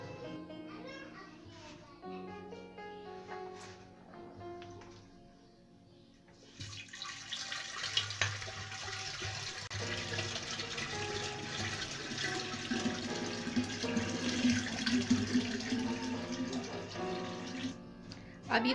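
Black carrot kanji is poured into a clay pot in a home kitchen, a running liquid splash starting partway through and continuing steadily after someone talks.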